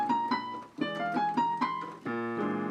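A piano plays short dissonant clusters and an altered chord, a few percussive struck notes followed by a sustained chord, quiet and close with no voice.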